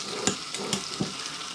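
Tomato paste goes into a frying pan for Armenian tolma filling and gets stirred, giving a soft sizzle broken by three brief scraping stirs, close and quiet, with no talking.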